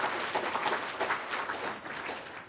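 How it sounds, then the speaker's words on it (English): Audience at a law breakfast event applauding, a dense, even patter of many hands clapping at moderate distance, fairly quiet and without speech. "We should applaud them."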